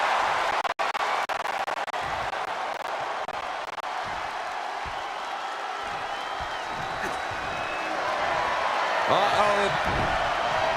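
A fired-up crowd cheers and roars steadily throughout a Braun Strowman versus Bronson Reed Last Monster Standing wrestling match, a dense wall of noise under a commentator's talk, with a sharp slam early on.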